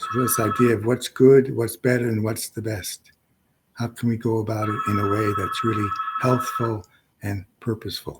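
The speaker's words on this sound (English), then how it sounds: "I'm sorry that my phone is ringing." A telephone rings during a spoken qigong talk, its bell tones recurring in bursts behind steady speech.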